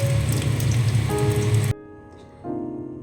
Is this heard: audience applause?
no